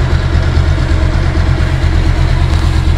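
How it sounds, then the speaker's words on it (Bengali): A 2021 Bajaj Pulsar double-disc motorcycle with about 20,000 km on it idles with a steady, loud low-pitched engine rumble that runs without a break, close up and with no voices. "এবার আমি বাইকটির সাউন্ড শোনাবো।"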